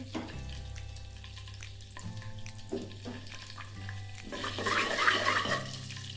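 Cumin seeds frying in about half a cup of hot oil for fried mutton kaleji: a bubbly, crackling sizzle that grows louder and busier toward the end, close by and without talk.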